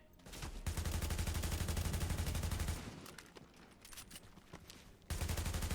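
Rapid automatic fire from an AUG A3P rifle in the video game The Division, two long, dense bursts of rattling shots, loud and close, separated by a quieter pause with scattered distant gunfire.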